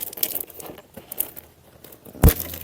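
Crinkly rustling and sticky crackles of tape being handled, with a sharp louder rip near the end; no talking.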